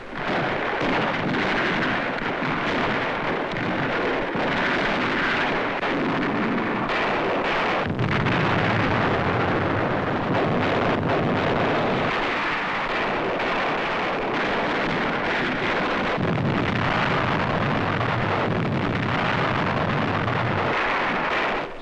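Naval and land artillery pound Iwo Jima in a continuous heavy rumble of distant booms and blasts. The low roar swells and eases over about twenty seconds, with wind-like noise layered on top.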